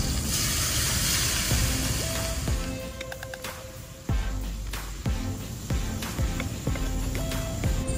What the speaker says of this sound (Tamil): நெத்திலி பொரிச்ச அதே எண்ணெயில வெங்காயத்தை போட்டுருவோம்